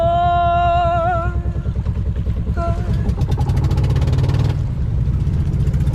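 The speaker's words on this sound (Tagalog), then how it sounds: "Umanda na yung isang makina." A fishing boat's engine starts and runs at sea, a steady mid-pitched motor drone that continues throughout, with a loud voice or horn-like tonal sound over it at first.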